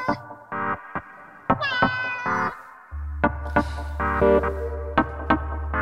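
A cat meows repeatedly in short, tonal calls of varying pitch over several seconds, with a steady low hum running underneath.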